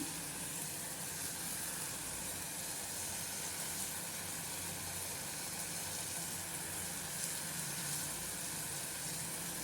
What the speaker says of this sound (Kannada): ಇವಾಗ ಅಕ್ಕಿ ನೆನೆಸಿಟ್ಟಿದ್ದು ತೊಳ್ಕೊಂಬಂದಿದ್ದೀನಲ್ಲ ಅದನ್ನು ಹಾಕ್ಬಿಡೋಣ